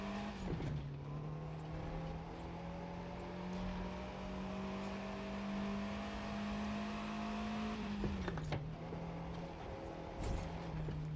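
Fiat 500 Abarth engine in The Crew 2 racing game, a steady droning hum held at constant revs with brief dips at gear changes around one and eight seconds, continuous and fairly close with no talking.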